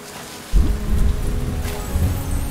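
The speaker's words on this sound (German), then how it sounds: "Mann, es soll mal aufhören zu regnen." Steady rain falls in the farming and fishing video game Len's Island, a continuous, fairly loud wash of drops with a low rumble joining about half a second in.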